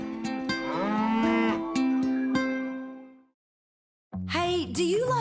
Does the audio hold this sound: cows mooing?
yes